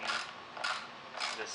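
A ratchet wrench fitted with a 9/16 socket tightens a bolt fastening a base pipe to a board, giving a few close, loud rasping clicks in short bursts.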